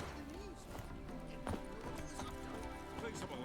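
Horse hooves clip-clop at a steady gallop in The Witcher 3 game, a continuous rhythmic thudding beneath layered game music and ambience, with a brief louder impact midway and no talk over it.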